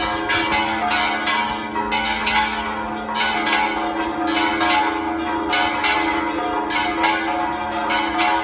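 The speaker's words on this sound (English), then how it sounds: "have you noticed that the church bells are ringing here?" Church bells peal continuously and steadily on a Sunday morning in Puerto Vallarta, a rich ringing that fills the whole stretch at a moderate distance, with no talking.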